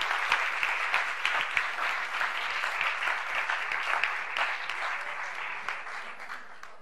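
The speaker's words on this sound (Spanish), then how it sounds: "Vamos a darle un aplauso también, por favor, al aula de primero de ESO B del Colegio Zaragoza Sur" An audience in a school anti-bullying round-table event claps for a first-year secondary class, steady dense applause throughout, fading slightly at the end.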